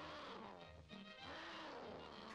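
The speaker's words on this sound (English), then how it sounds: "Heard the most ferocious sounding roars." A cartoon tiger lets out ferocious roars, a rough, growling cry sustained for about two seconds over a low rumbling bed, quite faint overall, with no talking.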